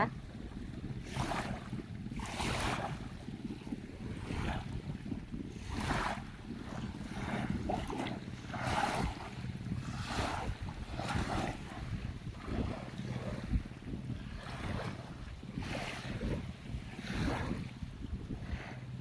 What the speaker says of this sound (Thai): ฟังเสียงคลื่นเสียงเรือ